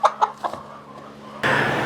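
Inside a farm chicken coop, a hen gives a few quick clucks close by. A sudden broad rush of noise then covers the end.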